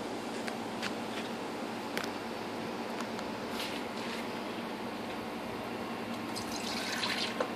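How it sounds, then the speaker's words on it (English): Whole milk pours into a 1 cup measuring cup, a soft steady liquid stream with faint splashes and drips, close and quiet, with no talk. "We're gonna actually put in 2 cups of milk."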